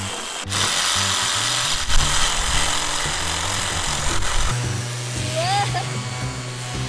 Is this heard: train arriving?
no